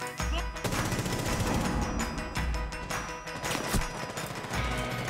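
Rapid bursts of gunfire from the tactical shooter Rainbow Six, loud and close, with repeated cracks and heavy low thumps filling the whole stretch and no speech over it.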